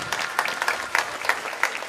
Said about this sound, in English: I would like to give a round of applause to my dear fellow senior, James Paradise.